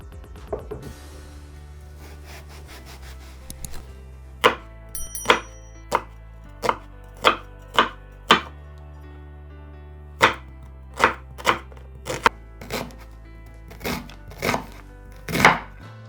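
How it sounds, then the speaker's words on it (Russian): A knife chops onion into cubes on a board for lobia polo, about fifteen crisp, separate strikes in an uneven rhythm, close and clear over a low steady hum. "Порежем лук кубиками."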